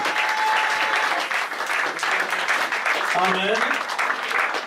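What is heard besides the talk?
applause in church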